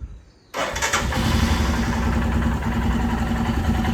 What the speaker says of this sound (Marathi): बाईकला तो पण आपण कोल्ड स्टार्ट देऊया.